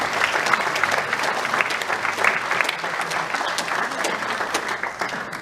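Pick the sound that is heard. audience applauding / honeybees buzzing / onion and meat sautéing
audience applauding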